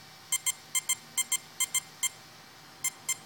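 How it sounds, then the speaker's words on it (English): A Mamba electronic speed controller sounds its programming tones: crisp, evenly spaced electronic beeps in pairs, five pairs and then another pair after a short gap, loud and close with no voices. "That'd be seven beeps for voltage cutoff."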